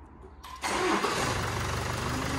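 A Land Rover Discovery Sport engine, repaired after a knocking big end bearing, cranks and fires up about half a second in, then settles into a loud, steady idle close by.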